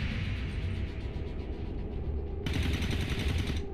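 Overwatch gunfire from XCOM 2 soldiers shooting at moving enemies on their turn, a dense, continuous crackle of shots that grows louder and brighter partway through, with no talking.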